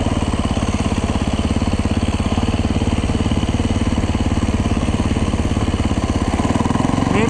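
A Yamaha dirt bike engine lugging in second gear through snow, a loud, close, low, rapid steady thrum that holds an even pulse for several seconds with no speech.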